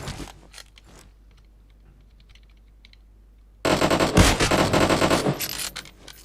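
Gunfire in the battle royale game PUBG Mobile starts with a few sparse clicks, then after a quiet stretch breaks into loud, dense automatic bursts that rattle on close by for several seconds.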